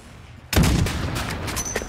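A loud sniper rifle shot from a video game bursts in suddenly and rings out with a long, dense rumbling tail that lasts more than a second.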